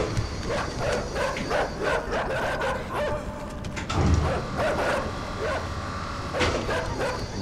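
Dogs bark and yip in the dark side-scrolling game Inside, a string of close, sharp barks and whimpers overlapping one another over a low rumbling background.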